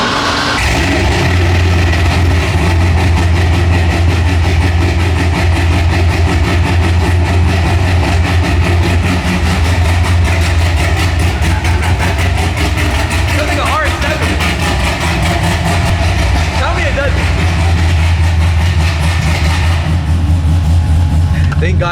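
A sports car engine with exhaust valves idles and burbles steadily with a deep, throaty exhaust note, while people talk over it throughout.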